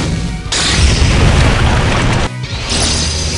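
A cannon shot booms in the game OUTERPLANE, loud and close with a heavy crashing blast, and a second similar blast follows about two seconds later.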